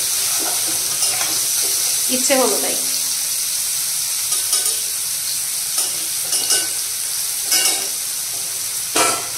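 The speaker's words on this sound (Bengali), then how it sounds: "একদিকে দেখো পটল ভাজা বসিয়ে দিয়েছি, আলু পটলের পটল ভাজা, আর এখানটায় হচ্ছে উচ্ছে ভাজা" Pointed gourd with potato and bitter gourd fry side by side in a pan, giving a steady close hiss of oil broken by scraping stirs and clinks, while a voice talks briefly over it.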